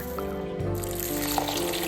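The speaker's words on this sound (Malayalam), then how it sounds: "വെള്ളം ഒഴിച്ച് കഴുകി അത് രാത്രി അങ്ങോട്ട് വെള്ളത്തിലിട്ട് വെച്ചേക്കാം" Water is poured over moong dal to wash it, a brief close trickle and splash of liquid in a kitchen.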